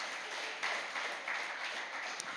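A church congregation claps for God during an Indonesian worship service, a faint, even patter of applause held at a distance throughout with no voices.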